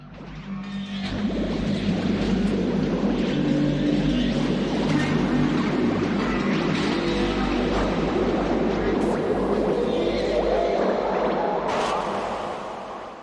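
Dark Serum synth preset Rhythmic Black Hole from Psyche Volume 1, chorus acting as a resonator, producing a dense, sustained rumbling texture with swirling, watery artifacts and shifting tones throughout.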